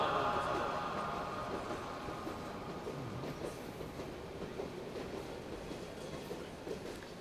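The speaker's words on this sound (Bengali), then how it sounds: "ট্রেনটা ডিস্টার্ব করলো।" A train rolls past at length, a steady low rumble with faint rhythmic wheel clatter that begins loudest and slowly eases, heard at a distance without voices over it.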